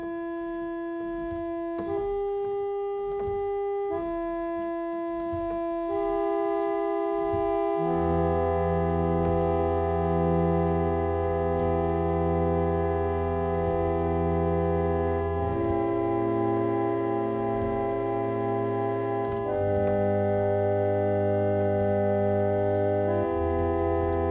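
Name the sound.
harmonium being played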